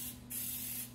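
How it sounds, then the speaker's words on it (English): A single burst of baking spray from an aerosol can into cake pans, a sharp close hiss lasting about half a second. "you're gonna spray your pans, either spray them or grease them and flour them"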